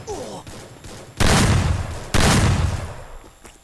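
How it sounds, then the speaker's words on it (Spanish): Bursts of gunfire from the Free Fire battle-royale video game, two long loud fusillades of rapid shots with a short pause between, ending in a sharp final crack. "Me están disparando."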